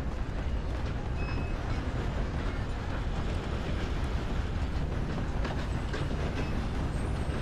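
A train rolls past on rails in the video game Red Dead Redemption 2, a loud, steady rumble with continuous rattling and clatter that fills the whole stretch without a break.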